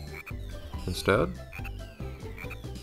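A frog croaks in the Fairly OddParents: Shadow Showdown Game Boy Advance game, short rhythmic chirpy game croaks repeating under a person talking, with one louder burst midway.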